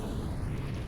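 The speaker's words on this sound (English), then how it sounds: "Oh, this nade could do a lot of damage." A grenade explosion in Counter-Strike, heard as a brief, steady, dense low rumble with no clear onset, sitting at moderate loudness in the game mix.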